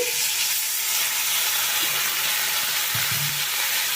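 Steady, loud sizzling of spice paste with chilli powder and ginger paste frying in a pan after a spoonful of water goes in, a continuous hiss with a few faint stirring knocks near the end.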